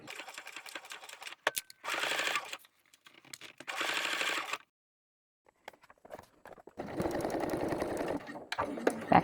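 A sewing machine stitches a bag in several bursts of steady mechanical whirring, each a second or two long, separated by quiet pauses and light handling clicks, close and moderately loud.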